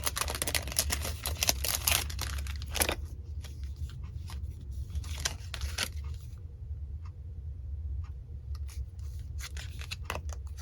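Clear stamps are pulled from plastic packaging, giving close crinkling, crackling and sharp rustling bursts that come in clusters with quieter gaps between, and no talking.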